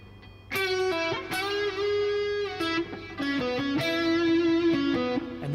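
Electric guitar plays the opening melody of a song, mostly on the 4th and 3rd strings: sustained singing notes with slides and picked attacks, clear and alone at moderate level.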